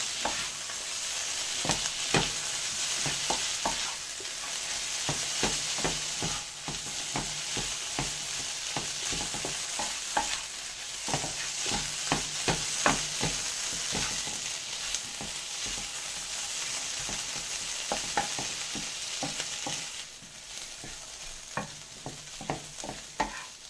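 Prawns sauté in a pan with a bright, continuous sizzle and repeated rhythmic stirring clacks and scrapes of a spatula, close up with no voices.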